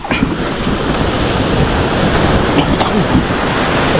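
Strong ocean waves breaking on the shore, a loud, constant rushing surf with wind buffeting the microphone, a few faint voices briefly audible underneath.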